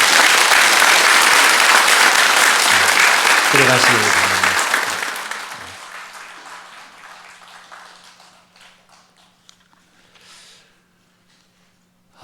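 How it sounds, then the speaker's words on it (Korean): A church congregation gives loud, dense applause to welcome newly baptized members during a Sunday morning service, then the clapping fades out. A speaker talks briefly near the end, and the last few seconds are nearly silent apart from a steady hum. "인사하실 때 큰 박수로 여러분 환영해 주시길 바랍니다"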